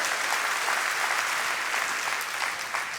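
A church congregation applauds in praise during a sermon, producing dense, steady clapping from a large crowd that stays loud and continuous throughout with no voices on top.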